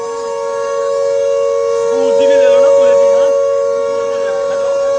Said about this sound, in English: so that you can hear the sounds of the sirens as well